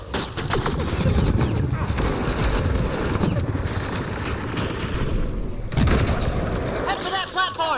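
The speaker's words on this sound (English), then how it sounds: "Who the hell is shooting?" Sustained gunfire and booming battle noise in the video game Mass Effect Andromeda, dense and loud throughout, with rapid shots and explosions layered over each other.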